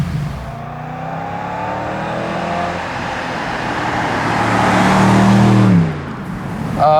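A BMW M850i Cabriolet drives with its top open, and steady wind roar and road noise swell as the car speeds up, with engine tones rising and then dropping near the end.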